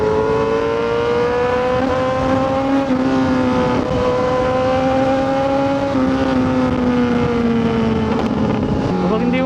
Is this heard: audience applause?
no